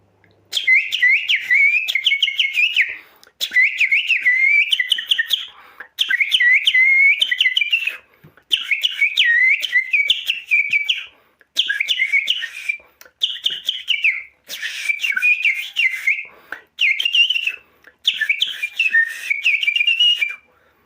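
A man whistles between his teeth to imitate an eagle's call, giving a series of shrill, warbling bursts of a couple of seconds each with short pauses between them, loud and close.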